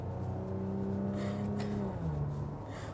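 Maserati car engine revving in sport mode, a loud sustained roar with rising and falling pitch heard from inside the cabin, steady and close throughout.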